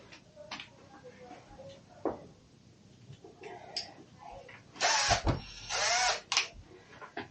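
Two short bursts of a power drill whirring close by, each lasting about half a second, amid quiet handling noises and some talking.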